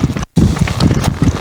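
A mare loping, her hooves thudding in a quick rhythmic beat close by, with a brief silent break and some wind noise over the footfalls.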